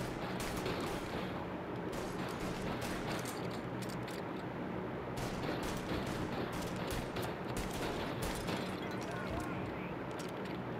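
Continuous video game gunfire crackles through the whole stretch, dense overlapping shots under steady talking, loud and unbroken with sharp bursts standing out.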